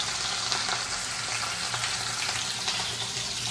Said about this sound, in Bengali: এবার তেলটা গরম হয়ে গেছে, মাছ এক একটা করে ছাড়াবো।